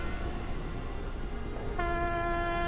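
Train horn in the video game Frostpunk sounds near the end as a steady, sustained tonal blast that starts abruptly over low background game ambience, fairly faint and alone without talk.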